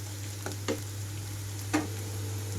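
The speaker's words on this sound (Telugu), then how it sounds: "రెండు నిమిషాల పాటు వేయించుకుంటున్నాను ఇలాగే" Onions frying in a pan, a quiet steady sizzle under a low hum, broken by a few sharp scrapes of a spoon stirring, the loudest near the end.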